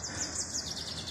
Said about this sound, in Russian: Ой, как птички поют.